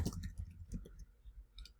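Computer mouse clicked while working in a spreadsheet, a few soft close clicks spaced apart against quiet room noise.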